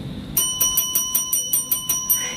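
A notification bell sound effect rings about nine bright, clear chimes in a steady, evenly spaced rhythm, close and alone.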